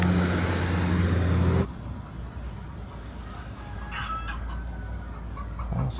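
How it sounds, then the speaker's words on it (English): Chickens clucking and a rooster crowing in a small town in Broken Bow, Oklahoma, fairly faint and heard from a passing car after a loud burst of engine and road noise at the start. "somebody's growing themselves some chickens."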